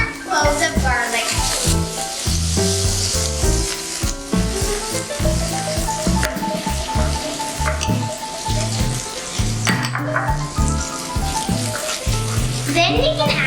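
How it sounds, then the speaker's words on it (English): Garlic cloves sizzle in melted butter in a pan, a steady crackling fry with soft clinks of utensils, while a voice talks over it. "Once the butter starts to melt, we can add in our cloves of garlic."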